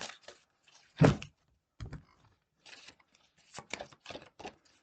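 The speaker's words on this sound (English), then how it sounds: "They are bigger cards, though, unless you've got really big hands, they're kind of hard to shuffle there." Large Chinese fortune cards shuffled by hand, giving a string of short papery riffles and taps, with one louder thump near the start and quieter bursts following, close up and with no talking.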